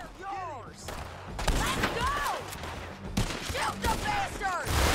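Gunfire in the Western video game Red Dead Redemption 2, with several sharp shots and a rapid volley cracking over a busy game soundscape, while a player talks at the start.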